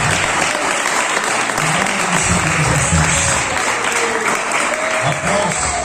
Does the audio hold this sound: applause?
yes